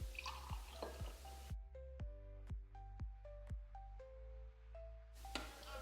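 Filtered water dripping and pouring into a container during a water ionizer test, with a series of distinct, close liquid drips and plinks at a slow, uneven pace in a quiet setting, framed by brief rushing bursts at the start and end.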